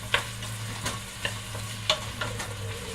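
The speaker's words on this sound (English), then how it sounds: "Okay, so the onions have softened quite a bit" Softened onions fry in a pan for a spaghetti meat sauce, a soft continuous sizzle broken by a few sharp spoon taps and scrapes against the pan, with no one speaking.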